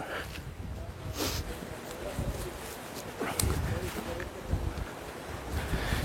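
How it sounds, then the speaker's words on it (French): Strong wind roars continuously across the microphone on the Atlantic coast, a dense rushing blast with gusts, nearby and loud. "il y a encore beaucoup de vent"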